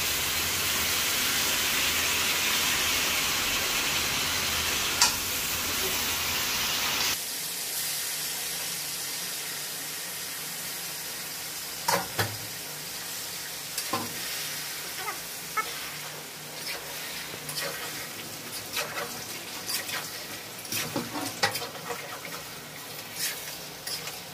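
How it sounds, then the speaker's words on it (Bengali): Duck meat, about three kilograms from two birds, sizzles and hisses in a pan before water is added, a continuous frying hiss with intermittent scraping clicks of stirring, close and fairly loud. "আমি এখনো পানি দেই নাই, এই পানি শুকিয়ে একদম কষা কষা হয়ে যাবে, ভাজা ভাজা তেল বের হবে"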